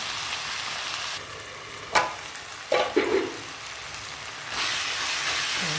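Tomatoes cooking in a covered pan for upma give a steady, close sizzling hiss, broken by a few clattering knocks from handling the lid or pan, then the sizzle swells louder toward the end.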